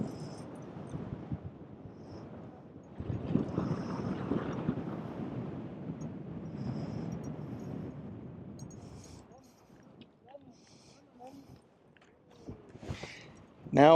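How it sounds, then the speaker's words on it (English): Wind gusts across an open, hot outdoor quartz and jasper rockhounding site, a broad low rumble of buffeting against the microphone that swells and subsides, easing off later into scattered clicks and rustles. "wind picked up big time, which is kind of nice because it was so hot"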